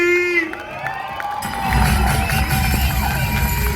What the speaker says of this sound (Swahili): Wapi makofi ya Boni?